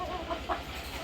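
A hen clucks close by while laying an egg, giving a short series of rhythmic clucks over a faint low rumble, with no talk.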